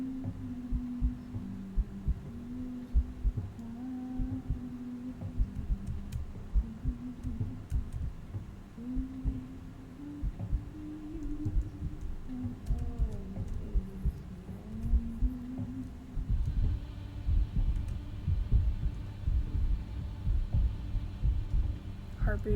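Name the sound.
heartbeat sound in the video game After The Curtain Call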